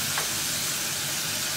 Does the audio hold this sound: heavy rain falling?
no